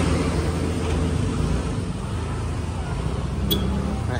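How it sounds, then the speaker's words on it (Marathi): A Sunday traffic jam on the road brings a continuous low rumble of idling and slow-moving vehicles nearby, steady throughout with a faint background murmur. "ट्रॅफिक खूप आहे आज रविवार संडे आहे त्याच्यामुळे ट्रॅफिक जाम आहे"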